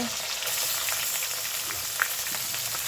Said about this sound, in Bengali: পেঁয়াজ কুচি দিয়ে দিল, পেঁয়াজ কুচিগুলো কষা নেবে